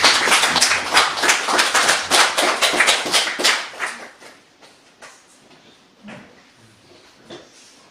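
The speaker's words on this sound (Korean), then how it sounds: "우리 박수로 환영하겠습니다" A small church congregation claps to welcome a guest, several seconds of brisk close applause that thins into scattered claps and fades out.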